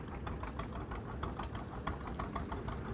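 A Canadian-built 1953 Massey Harris tractor's engine idles with a steady, rapid knocking putter, moderately loud and continuous at a rural gathering of old tractors.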